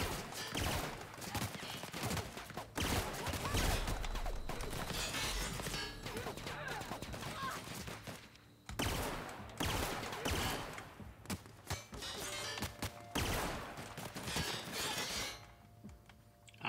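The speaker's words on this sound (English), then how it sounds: "I am being shot at from all sides" Rapid gunfire in the video game The Outer Worlds, dense clattering shots coming almost nonstop from several directions, with short pauses and scattered impacts in a busy firefight.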